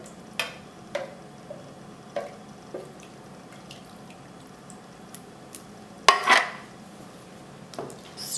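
Two cans of tomatoes, juice and all, go into a pot for tomato soup, with quiet metallic clinks and drips spread throughout and a brief wet splash of pouring about two-thirds of the way through.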